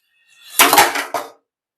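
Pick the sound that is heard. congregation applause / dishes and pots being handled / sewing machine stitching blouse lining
dishes and pots being handled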